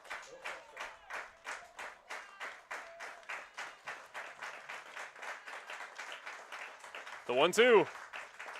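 A baseball crowd at a Brantford Red Sox home game against the Kitchener Panthers claps in a steady, rhythmic unison beat, moderately distant, with an announcer's voice briefly rising near the end.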